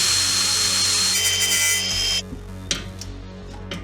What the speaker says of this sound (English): I wonder if I can drill all the way through this and then try to get this off